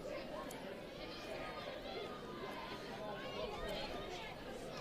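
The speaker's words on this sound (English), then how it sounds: "Got a good crowd here for the grand final" Steady crowd chatter and babble from spectators at a women's senior football grand final, Rovers versus Alkamilya, a continuous even hubbub of many voices with no single speaker standing out.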